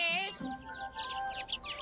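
Small birds chirp and tweet in short, bright bursts outdoors, moderately close, with a faint whistle-like tone at the start.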